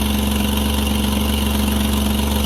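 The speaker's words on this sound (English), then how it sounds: "Here's an exhaust leak at the bottom here" A car engine idles loudly and steadily with a strong low hum and a raspy, puffing exhaust leak near the catalytic converter, continuous and close up with no talking.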